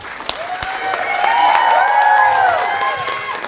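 Audience applause mixed with crowd cheering and shouts at a business event honoring a coach, building in the middle and then fading slightly, with whistle-like tones rising above the sustained clapping.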